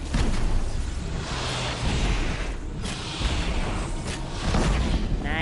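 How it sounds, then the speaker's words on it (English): An explosion in the Horizon Zero Dawn video game as machines carrying fluid sacks are taken down, a loud rumbling boom with whooshing debris and mechanical creaks over dense game noise, without speech. "Explosion. Sounds good to me."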